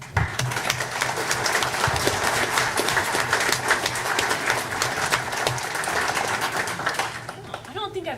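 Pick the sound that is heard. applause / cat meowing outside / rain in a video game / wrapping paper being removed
applause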